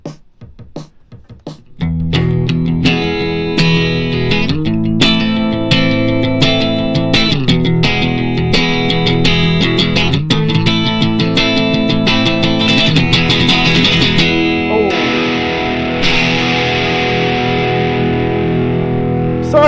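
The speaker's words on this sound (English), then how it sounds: "So the second section, the drums sound like this." Looped drum pattern for the second section of a song, loud and steady with repeated hits on a distorted, effected mix, starting after a brief quiet moment and running continuously.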